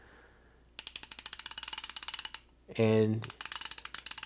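A 1/2 inch 90 tooth ratchet clicks in fast, even runs close up, pausing briefly while a voice speaks, then resuming its rapid ticking.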